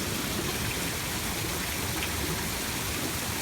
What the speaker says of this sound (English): the huge cauldron started bubbling